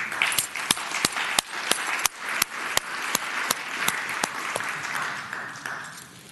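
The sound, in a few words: senators applauding in welcome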